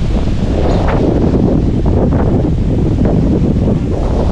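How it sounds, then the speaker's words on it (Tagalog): Strong wind roars steadily into the microphone, a constant heavy buffeting with a faint wash of sea underneath. "Dito tayo sa dagat ngayon. At grabe, lakasan ng hangin, no?"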